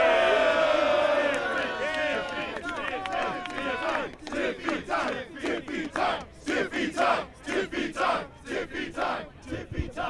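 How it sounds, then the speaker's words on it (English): A wrestling arena crowd at WrestleMania roars and cheers for the SmackDown Women's Champion, a loud sustained swell at first that breaks into choppy bursts of shouting and chanting, with a voice faintly over the top early on. "Let's hear it for Tiffy time. Tiffany Stratton!"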